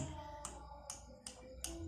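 Four evenly spaced sharp taps on a hard mold ring out over a steady low background hum, close and moderately loud.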